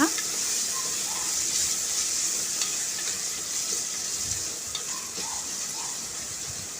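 Green chili masala stirred in a frying pan, a continuous sizzle with scraping strokes of a spoon throughout, close and fairly loud, with no talking.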